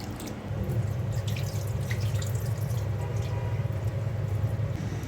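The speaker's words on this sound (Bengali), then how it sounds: "চাল আর ডালটা আমি ভালো করে ধুয়ে নেব।" Rice and lentils for white khichuri being rinsed in water at a kitchen sink, a steady running-water wash with light splashes and drips, continuous and close throughout, no talking.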